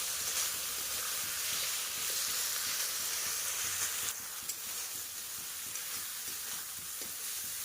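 Spices with turmeric, salt and Kashmiri chili powder sautéing in hot oil, a steady loud sizzle and hiss with faint stirring scrapes, no talking.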